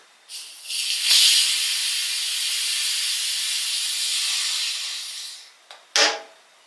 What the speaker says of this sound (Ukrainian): Стравлюємо зайвий тиск.